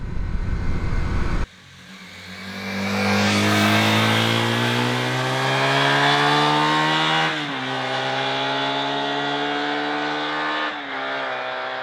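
A rebuilt Honda CB250 Super Dream motorcycle engine revs up loud and close, climbing to a sustained high buzzing pitch, easing slightly, then holding a rough, steady roar.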